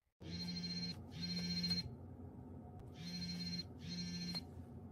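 A telephone rings in four long electronic bursts, two close pairs separated by a short gap, loud and clear over a steady low background hum with no voices.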